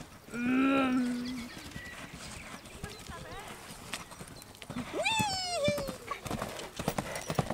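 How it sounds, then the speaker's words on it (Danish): A galloping horse gives a steady, rapid patter of hoofbeats, broken by two loud whinnies, one early and one midway. The sounds carry across an open outdoor setting, with background noise throughout. "Det er en hest, der kan galopere."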